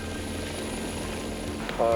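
A German police helicopter heard as a steady rotor and engine drone throughout, with a tonal whine rising near the end.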